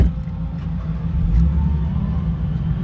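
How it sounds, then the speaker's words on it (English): A drift car's engine rumbles low and steady after starting on a track in Japan. The deep, close idle has a slight swell in the middle. "now the car should start, hopefully, and it should drift"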